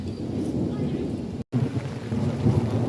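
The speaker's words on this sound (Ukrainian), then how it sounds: "гримить дуже-дуже сильно" Thunder rumbles through heavy rain on an outdoor weekend market day, a continuous low roar with steady rainfall that cuts out briefly for a moment before resuming just as loud.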